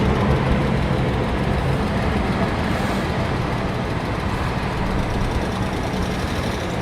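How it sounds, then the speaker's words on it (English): Rattly engine of a 1997 BMW 528i E39 running steadily at close range, a continuous rough idle-like drone with broadband mechanical clatter throughout, no talk over it. "The engine does sound a little rattly."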